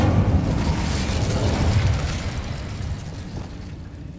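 Incendio fire spell effect from the Hogwarts video game: a loud, sustained roaring whoosh of magical fire, dense and rumbling, gradually easing off over a few seconds with no talk.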